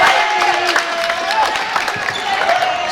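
Crowd at a JV boys high school basketball game between St. Mary's and St. Anthony's cheering after a layup, a dense continuous roar of voices close around, with shouts rising throughout.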